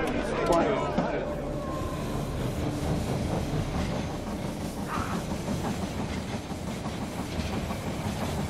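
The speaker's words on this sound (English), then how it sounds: "The train has arrived at the station." A steam-era train rolls into a station in the strategy game They Are Billions, a steady rumbling clatter with hiss, played back continuously at moderate level throughout.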